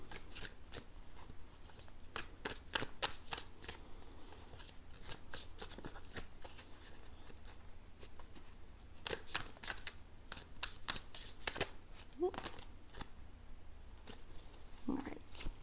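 Tarot cards riffled and shuffled by hand in a quiet room, crisp close bursts of flicking and slapping cards repeating in uneven clusters with brief pauses between.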